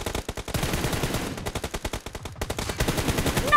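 Rapid bursts of automatic gunfire from a shooting video game set on the Livik map, loud and rhythmic with short pauses between volleys, with no talking over them.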